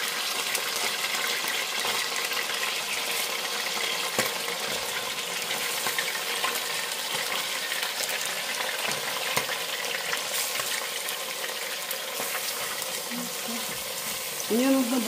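Pork ribs frying in the pot of a pressure cooker, a steady dense sizzle and crackle running the whole time, close and even, with a few spoon clinks and a brief murmur of voices near the end.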